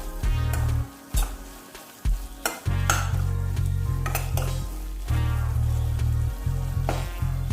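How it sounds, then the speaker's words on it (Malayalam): Spices and asafoetida powder sautéed in a pan for carrot pickle, a steady sizzle with repeated stirring scrapes and utensil clinks, close and continuous with brief pauses. "കായപ്പൊടിയും കൂടെ ചേർത്ത് നന്നായിട്ടൊന്ന് വഴറ്റാം."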